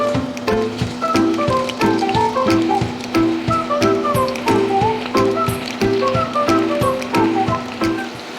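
Marinated chicken pieces frying in hot oil at 375 degrees, a steady close crackle and sizzle with rapid popping bursts throughout, loud and continuous over a faint background hum.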